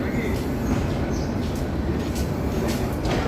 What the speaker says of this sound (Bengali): এই বগি যাচ্ছে